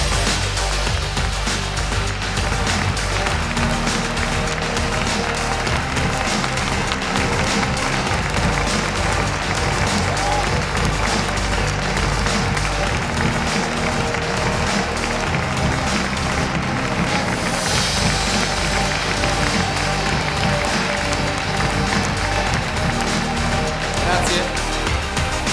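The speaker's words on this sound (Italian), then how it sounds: "l'applauso deve essere per voi" Sustained applause from a large audience fills the room for Lamborghini factory workers at the Urus world premiere event, steady and dense throughout with scattered voices mixed in.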